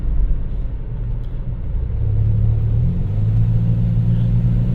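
A 1991 Dodge Grand Caravan engine pulls under acceleration with a steady low rumble that rises in pitch and strength partway through, heard from inside the van with no talking.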